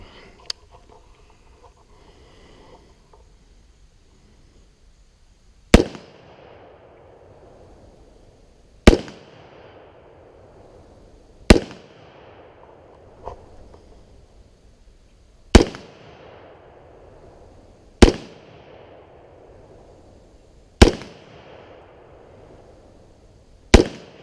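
A .45 pistol fired at targets on an outdoor shooting range with a reflex sight: seven sharp, loud single shots spaced a few seconds apart, each ringing off into a short echo, with quiet rustling between them.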